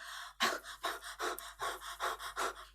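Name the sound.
person panting after running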